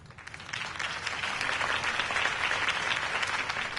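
Crowd applause following a campaign speech in a Batman video game, a dense steady wash of many hands clapping that swells in and holds for a few seconds.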